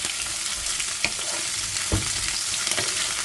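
Mixed peppers frying in very hot oil that splashes, giving a steady close sizzle with occasional sharper pops and stirring knocks.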